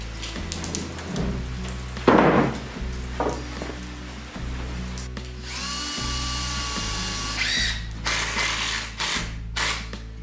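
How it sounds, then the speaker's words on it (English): Pilot holes drilled into small 2x2 lumber for a mini cabin camper, several short whirring drill bursts with clattering handling noises between them and a steady hum underneath. "every single hole has to be pilot drilled and countersunk"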